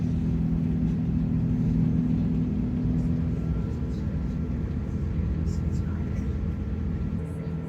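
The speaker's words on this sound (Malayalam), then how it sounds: "അങ്ങനെ ഫ്ലൈറ്റ് പൊങ്ങിക്കൊണ്ടിരിക്കുന്നു" Steady low roar of a passenger jet cabin during the climb on a flight from Melbourne to Los Angeles, a constant engine drone with faint murmuring voices underneath.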